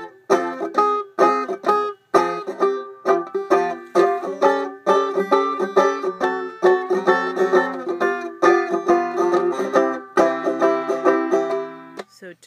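A banjo picks a quick F turnaround in closed chords, bright and plucked, steady and close, ringing with sharp attacks and short gaps between phrases.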